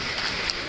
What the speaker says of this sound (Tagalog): Hindi lang makalabas si Commander ngayon gawa ng sobrang lakas nga ng ulan tsaka dulas ng daan